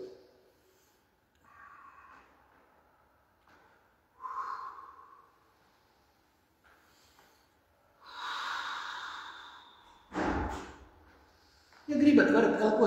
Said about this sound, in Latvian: Ja gribat, varat elpot skaļi.